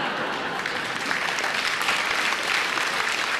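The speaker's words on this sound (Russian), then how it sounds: "во всех городах аплодисменты после этой фразы" Dense, steady audience applause fills a comedy concert hall, a continuous broadband wash of many hands clapping at even loudness throughout.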